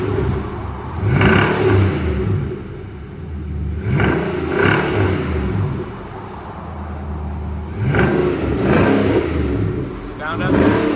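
A 2019 Nissan Armada's 5.6-liter V8 with a custom H-pipe and Magnaflow dual exhaust revs up in several throaty bursts over a rumbling idle, close and loud.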